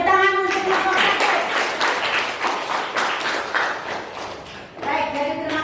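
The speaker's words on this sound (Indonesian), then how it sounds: "tepuk tangan untuk kelompok satu" Classroom of ninth-grade students clapping for the first group after their civics presentation, a loud mix of many hands with irregular thumps, fading slightly then swelling again near the end, with some voices mixed in.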